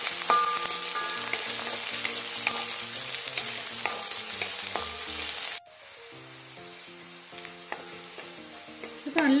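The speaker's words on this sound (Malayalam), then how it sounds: "ഏകദേശം ഒരു ഗോൾഡൻ ബ്രൗൺ ആകുന്നത് വരെ നമുക്കിത് ഫ്രൈ ചെയ്യാം." Garlic fries in oil over medium heat until golden brown, giving a loud, steady, close sizzle throughout, with soft background music.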